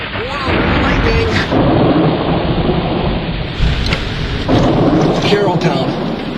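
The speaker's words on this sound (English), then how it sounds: "Lightning!" Loud thunder from a summer lightning storm rolls and rumbles close by over heavy rain, with a sharper crack partway through and a person exclaiming over the din.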